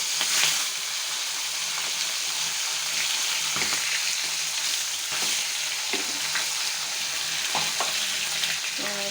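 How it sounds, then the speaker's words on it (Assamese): A fish head frying in hot oil in a home kitchen, a steady close sizzle with a dense crackling hiss throughout and occasional faint utensil clinks, no voices. "এতিয়া মই মাছৰ মাথাটো ফ্ৰাই কৰি ল'ম।"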